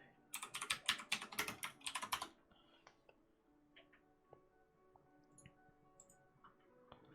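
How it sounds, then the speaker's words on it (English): Loud, rapid typing on a computer keyboard during an online Death & Taxes game, a dense burst of close clattering keystrokes for about two seconds, then a few scattered quieter clicks. "Sorry for my horrendously loud typing."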